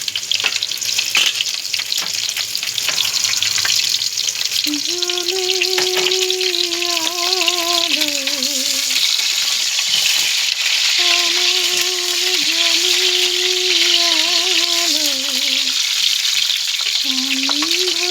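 Pointed gourd fries in a pan, with a loud, unbroken sizzle and faint stirring up close, while a sustained melodic tone, like humming or music, rises and falls over it in several long phrases.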